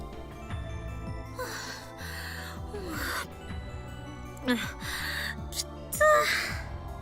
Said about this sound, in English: Kurisu gasps for breath